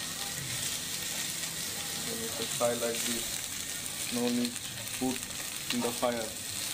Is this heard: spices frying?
yes